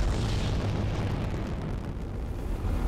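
A big explosion in Destiny gives a loud, sustained roaring blast with rumbling debris. It carries on for nearly three seconds without fading.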